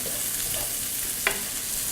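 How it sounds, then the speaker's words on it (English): Thinly julienned white onion hits hot garlic and pancetta bacon fat in a pan, a dense even sizzle throughout with a single brief stirring clink. "I'm gonna add in some of the vegetables now because the garlic's getting hot."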